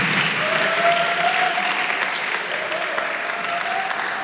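A church congregation applauds in steady, sustained clapping that fills the room without pause, loud and close, while a voice carries on faintly beneath the clapping.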